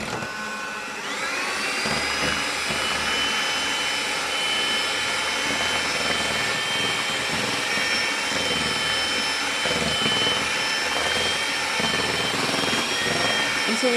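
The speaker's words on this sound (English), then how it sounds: "now we're just going to add our 1 mug of semolina and slowly start mixing it with our electric whisk" An electric whisk whirs steadily as semolina is mixed in for galaktoboureko, a continuous high motor whine that starts after a second and holds at an even, close, loud level throughout, with no talking.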